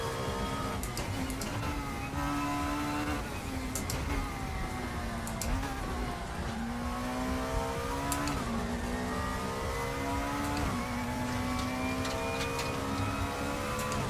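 A car engine revs and accelerates continuously, with rising and falling tones as it pulls through the gears, loud and close, heard from inside the car with no talk.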